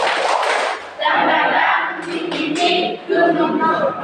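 A group of people chants together loudly in a rhythmic spirit-clap routine, with shouted syllables and thumping claps filling the whole stretch in bursts.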